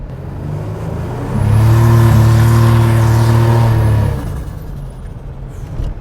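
A 650 wheel-horsepower turbocharged V6 Buick Grand National sleeper accelerates hard, a deep low engine drone swelling loudly for a few seconds with rising whine overtones before fading off, with no voices.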